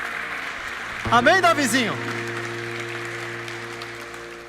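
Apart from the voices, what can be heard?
church congregation applause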